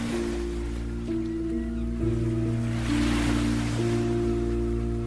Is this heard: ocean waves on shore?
yes